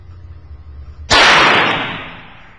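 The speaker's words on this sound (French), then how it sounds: "Lorsque vous êtes à l'aise et prêt à tirer, déplacez le cran de sûreté en position de tir et visez la cible." A single sharp firearm shot at an outdoor range, fired at a target after the safety is switched off, with a loud crack and a long decaying echo following a quiet, low-humming background.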